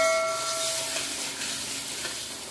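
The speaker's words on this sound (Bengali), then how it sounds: "এখন বেশ কিছুক্ষণ কষাবো," Spice paste with ground cumin sautéing in oil for a rohu fish curry, a steady close sizzle and crackle with faint stirring scrapes, continuous and unaccompanied by talk.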